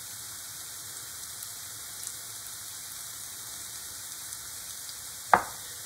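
Chayote seasoned with pepper and chili sweats in a pan, giving a soft, steady sizzling hiss throughout, with one sharp click near the end.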